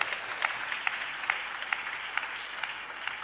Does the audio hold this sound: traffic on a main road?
no